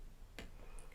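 A computer mouse button gives one sharp, close click in near silence, followed by faint tiny ticks.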